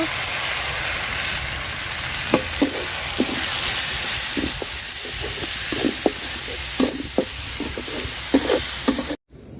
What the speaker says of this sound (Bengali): পেঁয়াজ মরিচ আমি লাল লাল করে বাজা নিছি বাটা রসুন দিয়ে দিব দিয়ে বাজা নিব